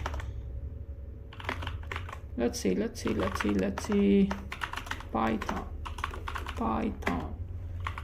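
Rapid, close clattering keystrokes on a computer keyboard come in uneven bursts while someone codes in Python, with someone talking briefly over the typing.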